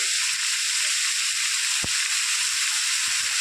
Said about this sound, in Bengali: সব রকম সবজি দিয়ে হালকা ভেজে নেবো আমি সবজিগুলো একটু